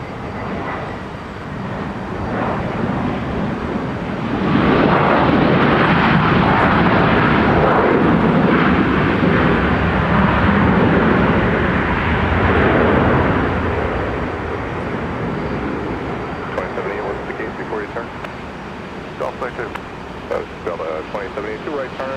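An airliner takes off from runway 30 right at Minneapolis–St. Paul Airport, and its engine roar builds to a loud, sustained rush before slowly fading. Faint radio voices can be heard underneath at times.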